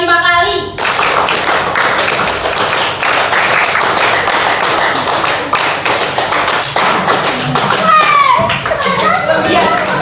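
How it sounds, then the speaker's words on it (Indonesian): A high school class in Surabaya claps together in quick rhythmic bursts on a teacher's count, sharp close hand strikes repeating through, with a brief voice at the start and some chatter near the end. "Tepuk 5 kali."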